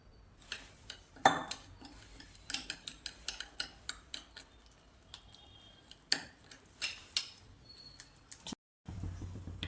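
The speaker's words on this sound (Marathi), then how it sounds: "तर आता हे आपल्याला मिक्स करून घ्यायचे पाणी घालून" A spoon mixes ground spices such as coriander powder and Kashmiri red chilli with water in a bowl, clicking and tapping against the sides in an irregular close series, quiet overall, ending in a brief cut.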